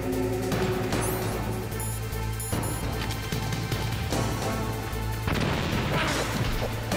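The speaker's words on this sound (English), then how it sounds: "Can do a regular grenade while we're at it." Grenade blast in the Metal Gear Solid video game, a loud booming burst with a rumbling tail, followed by another heavy impact a few seconds later.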